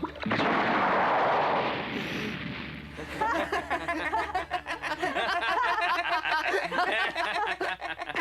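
A cartoon explosion effect bursts loudly at the start as a broad noisy blast that fades over about two seconds, followed by busy clattering and chattering sounds.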